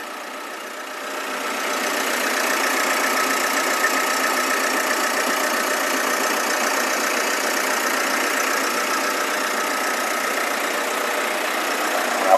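A 2016 Mitsubishi Triton 2.4 GLS Plus automatic pickup engine runs at a steady idle, an even mechanical hum that settles in after the first second and continues alone without talk.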